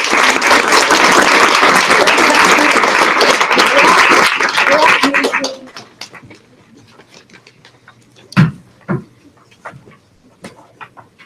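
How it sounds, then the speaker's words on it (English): Audience applause at a school spelling bee: dense, loud clapping for about five seconds that quickly fades out, followed by scattered quiet claps, shuffling and a couple of thumps in a quieter room. "let's get a round of applause"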